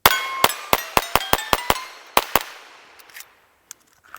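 Rapid rimfire shots from a Volquartsen Scorpion X pistol, about ten sharp cracks each with a ringing clang off a steel target, fired in a quick string then tapering to faint distant pings.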